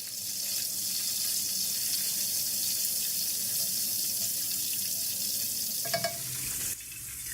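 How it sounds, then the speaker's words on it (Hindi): Whole spices for biryani (cardamom, nutmeg, mace, cumin) frying lightly in hot oil, a loud continuous hiss that holds steady before a brief clatter and a slight drop near the end. "सब चीज़ों को हम हल्का सा फ्राई कर लेंगे।"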